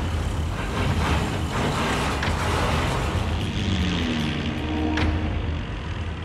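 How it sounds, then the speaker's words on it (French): A heavy truck engine rumbles and strains steadily while a winch hauls a cable, pulling the 8-tonne loaded truck through mud, a continuous low mechanical drone with occasional creaks. "Le câble s'enroule lentement sur lui-même, tractant les 8 tonnes du camion et de sa cargaison."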